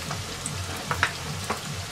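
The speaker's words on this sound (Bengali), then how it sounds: "পেঁয়াজ ও মশলাগুলো 1 মিনিট কষিয়ে নিব।" Chopped onion with garlic and ginger paste frying in a quarter cup of hot oil in a pan, a steady close crackling sizzle with small pops throughout.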